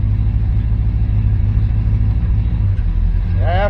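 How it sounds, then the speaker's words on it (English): C3 Corvette with a 200 4R automatic transmission, engine running as it is shifted into drive, a steady low idle rumble throughout, with a voice at the very end. "Okay, she went into drive."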